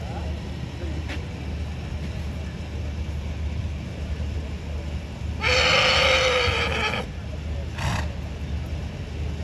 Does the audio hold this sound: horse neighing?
yes